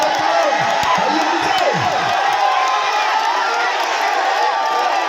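A crowd at an outdoor tug-of-war match cheers and shouts loudly and steadily, a dense wash of voices with some whoops rising over it.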